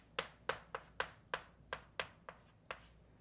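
Pen or pencil writing by hand while working a calculus problem: about ten quick, faint scratchy strokes in an irregular rhythm, close and quiet, with no voice.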